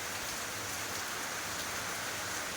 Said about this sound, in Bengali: কি সুন্দর বৃষ্টি হচ্ছে